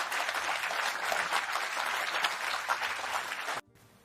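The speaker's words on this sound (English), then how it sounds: "Loud applause." Loud applause from a news-show audience, a dense steady wash of clapping and cheering that runs for several seconds and then cuts off abruptly.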